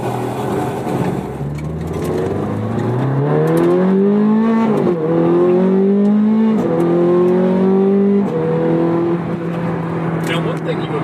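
A high-revving Ferrari Scuderia engine fires up from a cold start and rises in pitch, settling into a loud, steady idle with brief throttle blips, close by.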